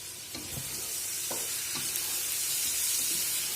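Meat for plov sizzles steadily as it fries in a pot, with a few scraping stirs of a utensil breaking through the constant hiss, close and alone without talk.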